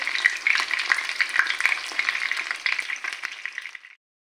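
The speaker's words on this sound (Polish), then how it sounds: "Kotlety już się smażą." Ground-meat patties (kotlety mielone) fry in a large pan, giving a continuous crackling sizzle with dense little pops, close and fairly loud for about four seconds before cutting off cleanly, with no voices.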